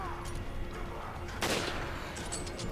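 A sniper rifle in the video game Resident Evil 5 fires a single sharp, loud shot over the game's steady background noise.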